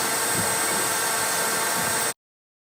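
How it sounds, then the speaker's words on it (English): A vacuum cleaner runs at a steady, loud, broadband roar for about two seconds before cutting off abruptly into silence. "Time to vacuum."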